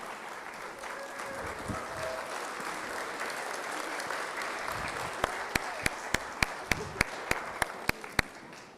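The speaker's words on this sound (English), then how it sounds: "All right, round of applause again." An audience at a pageant applauds steadily throughout, followed near the end by a series of loud, distinct single claps.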